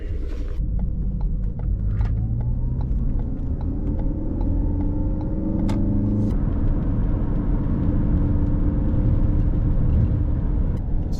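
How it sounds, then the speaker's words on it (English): A rough-running car engine droning steadily while driving, heard from inside the cabin, with engine tones climbing and dropping through gear changes over about eleven seconds and no talk. "The engine does not sound happy at all."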